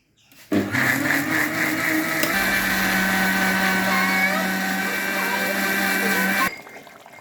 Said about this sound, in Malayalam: ഇവിടെ വെച്ച് തേങ്ങ അരക്കാം